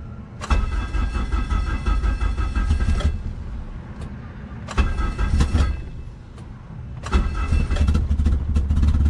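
A car engine running on E85 fuel cranks in three loud, close bursts, each grinding for about a second or more before dropping off, with a steady idle-like rumble between attempts.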